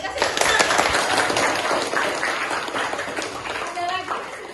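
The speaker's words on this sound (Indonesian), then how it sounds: "Kasih tepuk." A classroom of students claps for a classmate's answer, a dense burst of applause that starts strong and gradually thins, with voices chattering underneath.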